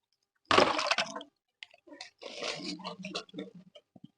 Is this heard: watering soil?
yes